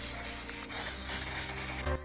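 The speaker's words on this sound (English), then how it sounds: "absolutely blasting the cape with a ton of glitter spray" Glitter spray blasted onto a costume cape: one long continuous aerosol hiss, loud and close, cutting off abruptly near the end.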